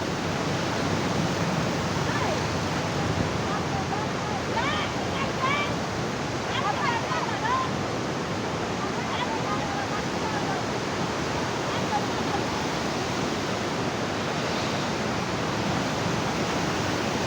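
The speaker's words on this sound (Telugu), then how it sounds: "చూడండి లాకులు మొత్తం వదిలారండి." Water pours through fully opened barrage gates in a constant powerful roar, heard close and loud, with a few faint chirping or squeaking sounds briefly rising above the wash.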